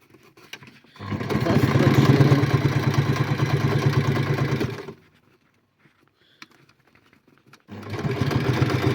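Sewing machine stitching a seam on a handmade bicycle bag: a steady close mechanical whir runs for about four seconds, stops for a quiet gap with faint handling, then starts again near the end.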